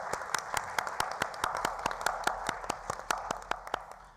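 A council chamber audience applauds at a borough full council special meeting, a steady patter of many hands clapping at moderate distance, fairly even throughout with no voices over it.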